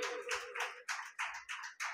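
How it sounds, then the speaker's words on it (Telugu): A church congregation at a Sunday service claps in a fast, even rhythm, each burst of many hands following the last in a steady beat, moderately distant and without talk. "గట్టిగా చప్పట్లు కొట్టండి"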